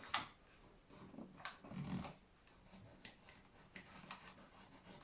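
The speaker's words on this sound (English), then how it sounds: "Let's do a little rubbing and along here, so that we know that can be trimmed off" Soft, quiet rubbing over a paper template laid against the front glazing of a build, marking an edge to trim, a few scratchy strokes with a low scuffing burst midway.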